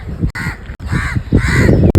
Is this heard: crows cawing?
yes